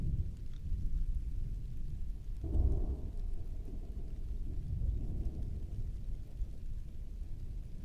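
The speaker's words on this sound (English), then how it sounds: "That is an actual storm." Low rumbling thunder from a real thunderstorm outside, rolling beneath a steady wash of rain and wind, with a brief swell of louder rumble partway through.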